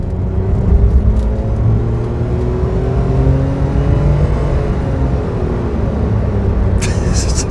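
A Daihatsu Tanto with a CVT gearbox drones at held high revs while accelerating, a steady, loud engine whine inside the cabin that barely changes pitch as speed builds.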